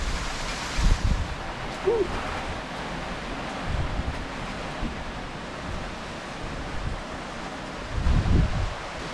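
Storm wind from a bomb cyclone roaring steadily outdoors, a continuous broad rush with several heavier gusts and buffeting thumps against the microphone, with no voices.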